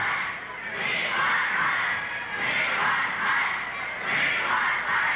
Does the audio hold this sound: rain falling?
no